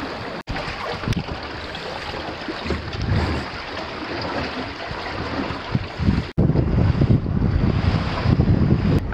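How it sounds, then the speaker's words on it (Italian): Sudden squall of strong, gusty wind at sea off Elba near Laconella, roaring steadily into the microphone from a small boat, with waves and water rushing beneath and no voices. "Abbiamo preso una bufera di vento improvvisa con delle raffiche pazzesche."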